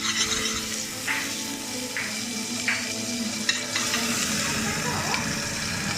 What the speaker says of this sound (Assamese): এতিয়া চাওকচোন, শুনক শব্দটো এনেকৈ ফুটে, তেতিয়া আমি পানী দিবলৈ হৈ গ'ল বুলি গম পাম